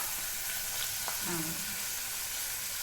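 Onions, green chillies and curry leaves fry in oil for egg biryani, giving a soft, steady hiss at low volume with a brief faint tonal murmur partway through.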